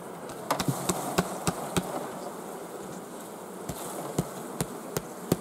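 Honeybees hum steadily at an open hive while frames are handled, a faint continuous drone broken by sharp, irregular clicks and knocks of wooden frames.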